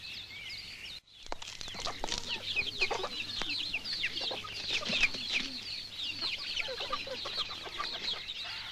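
Chickens at a farmyard seller's stall cluck and squawk in a busy, overlapping chorus, close and steady throughout, with roosters among them and no voices heard.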